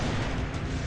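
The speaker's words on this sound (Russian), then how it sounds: "Слушайте, фейерверк вообще безумный." Fireworks burst continuously in the Hot Wheels Drive Ahead video game, a dense, loud, unbroken wash of booming explosions filling the full second with no pause.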